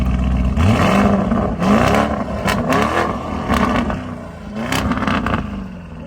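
BMW M5 engine revving hard, loud repeated rising roars with throaty exhaust blips and a short clatter between pulls, close up.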